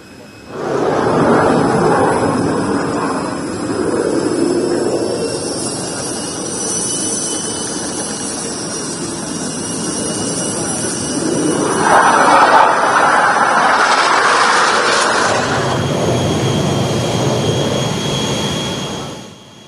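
A Jordanian Hashemite royal aircraft lands at Halim Perdana Kusuma air base on a Friday afternoon, a loud, sustained jet roar that swells midway and holds for nearly twenty seconds without talk.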